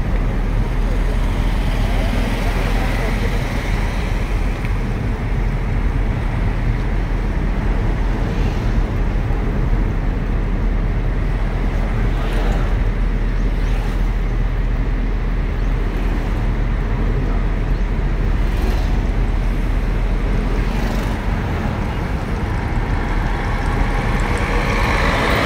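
A car accelerating during a driving lesson, its steady engine and road rumble running throughout with wind buffeting the microphone, while an instructor talks over it.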